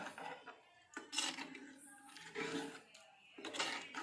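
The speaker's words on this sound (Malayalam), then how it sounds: "ഇങ്ങനെ സൈഡിൽ നിന്ന് തവി ചരിച്ചിളക്കാം" A ladle scrapes and clinks inside a pot as fish curry of vata fish with coconut milk is stirred along the sides, several close, soft metallic knocks and scrapes with brief pauses between them.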